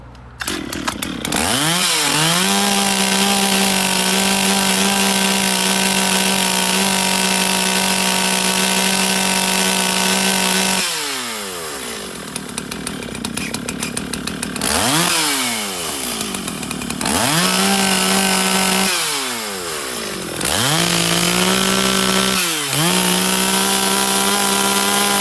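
A rebuilt Stihl MS 044 Arctic chainsaw with a new piston, cylinder and carburetor runs loud and close, repeatedly revving to a high scream and dropping back to idle several times.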